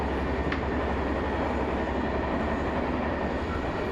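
A train moving onto a railway siding gives a loud, unbroken rumble and roar of rolling stock, steady and close throughout, with no voices.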